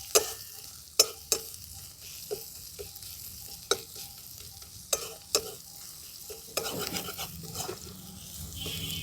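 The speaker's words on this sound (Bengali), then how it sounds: "আদাটা দিয়েও খুব ভালো করে আমি মিশিয়ে নিচ্ছি পেঁয়াজের সাথে" Ginger paste is stirred into frying onions in a pan, giving a low steady sizzle broken by sharp, regular scrapes and clacks of the spoon against the pan, close and clear with no talk.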